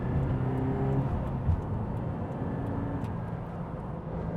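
A Toyota GT86 drones steadily from inside the cabin on a dual carriageway at moderate volume, with road and wind noise and no clear surge of acceleration.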